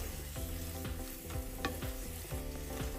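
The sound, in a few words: stirring salted potato filling frying in pan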